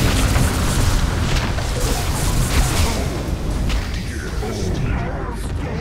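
A loud booming explosion from Caustic Finale in Dota 2, heavy low rumble and crackling burst layered over game effects, followed by a fading roar.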